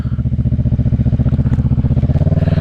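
A Kawasaki EX 650 (ER6F) motorcycle engine idles with a loud, rapid, throbbing pulse, close up and steady throughout.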